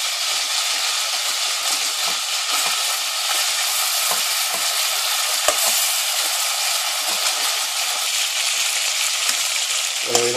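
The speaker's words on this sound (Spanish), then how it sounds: "Según se va friendo, añadimos los ajos." Meat frying with garlic in a pan for a pork rib stew, a steady close, loud sizzle and crackle running throughout with small pops and stirring rattles, no talking.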